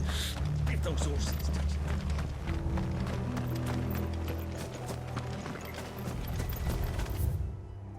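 Horses galloping in the Final Fantasy XVI video game, a steady rapid clatter of hooves running close and loud, with a character's voice heard briefly over it.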